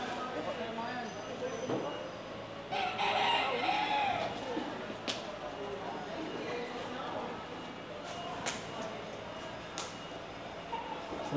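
A rooster crows once amid other chickens in a busy outdoor setting where fighting cocks are kept. People talk throughout, and background noise and sharp knocks run under the crowing.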